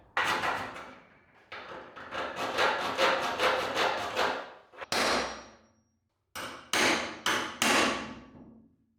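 Heavy metal hammer blows against tack welds on a steel military trailer being converted into an overlanding rig, struck in rapid close bursts of loud ringing clangs, with a short pause before a final few harder hits.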